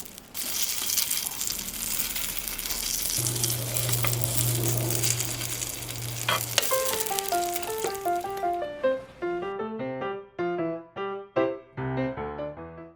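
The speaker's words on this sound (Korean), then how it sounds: "달걀 노른자를 올려 원하는 정도로 익히세요" Shredded potato and egg yolk frying in a pan make a steady, close crackling sizzle for about eight seconds, then it gives way to light music.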